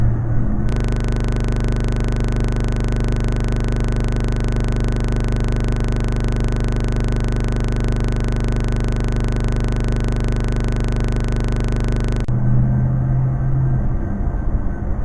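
Steady traffic rumble from cars on the road by a parking lot near Roper Mountain, a continuous loud drone with a sustained engine hum that lasts about twelve seconds before easing off.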